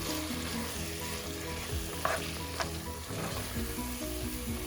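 Beef mince stirred and fried in masala for Goan potato chops gives a steady, close sizzle, with scraping stir strokes and a few brief clinks of a spoon against the pan.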